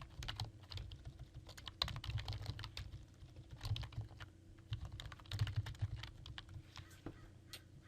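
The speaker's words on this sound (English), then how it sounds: "You can type in whichever keywords you want." Steady clatter of keystrokes on a computer keyboard entering search keywords, continuous and close with uneven rhythm, no voices.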